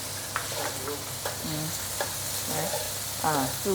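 Pork mee goreng noodles stir-fried in a wok, a steady sizzle with repeated scraping strokes of the spatula against the metal, close and continuous.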